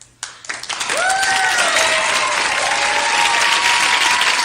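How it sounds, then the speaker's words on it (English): A TV studio audience bursts into applause during a Mad TV skit, starting after a brief sharp sound and building into sustained loud clapping, with a few whoops or cheers rising above the crowd. "they're sitting up here applauding this man for showing up during a damn skit"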